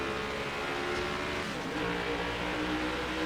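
NASCAR Next Gen race car roaring past on a road course in NASCAR Heat 5, a dense, steady engine drone with no talk.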